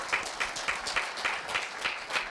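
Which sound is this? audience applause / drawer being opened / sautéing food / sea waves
audience applause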